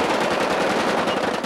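Sustained rapid automatic gunfire fired in celebration by gunmen in news footage on September 11, 2001, loud and dense with fast repeated cracks throughout and no speech.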